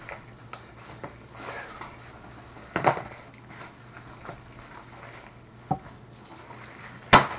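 Onions, peppers and cheese are stirred together by hand in a bowl, giving quiet squelching rustles with a few sharp knocks and clinks of the bowl, close by and without speech.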